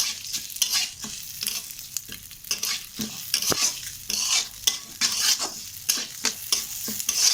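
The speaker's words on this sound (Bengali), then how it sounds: "আমি ডালটা ঢেলে দেব, দিয়ে হালকা করে ভেজে নেব" Broken wheat dalia frying in a pan with red chilies and whole spices, a steady sizzle broken by repeated scraping strokes of a spatula, close and fairly loud, with no voices.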